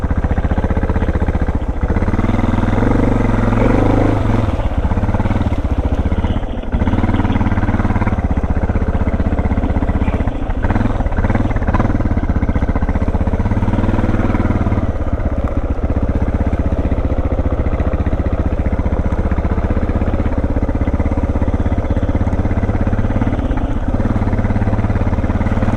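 Suzuki and Honda dual sport motorcycles ride off-road in the Appalachian mountains, engines droning loudly and steadily with rising and falling throttle and occasional bumps and clatter over about twenty-five seconds.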